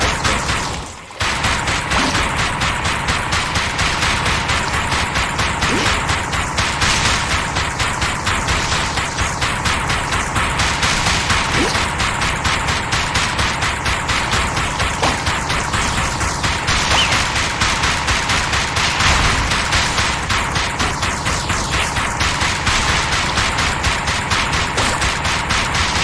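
Rapid, continuous gunfire from the VR game Dick Wilde 2 as players shoot at redfish, loud sustained bursts of shots in a dense rhythmic barrage with no pause.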